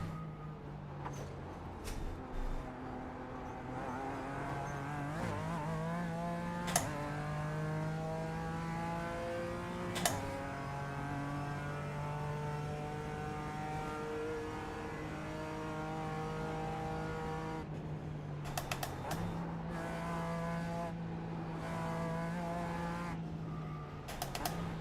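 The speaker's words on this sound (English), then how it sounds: "There's a faster car approaching." A faster race car coming up at the 2025 Nürburgring 24 Hours on the Nordschleife. Its engine drones steadily with rising and falling pitch through gear changes, loud and continuous, with a few sharp clicks on top.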